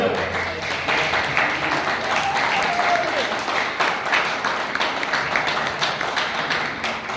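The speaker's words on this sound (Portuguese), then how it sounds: "Aplaudindo em nome de Jesus, por favor." A church congregation applauds in a long, sustained round of clapping that stays at full strength for several seconds, with individual claps audible in the mix and voices mingling in.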